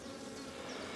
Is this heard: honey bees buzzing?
yes